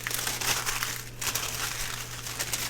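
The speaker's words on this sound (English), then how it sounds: "So let me grab some tissue paper out of here." Tissue paper is pulled out of a box, giving close, soft crinkling and rustling in irregular bursts over a few seconds, with no voices.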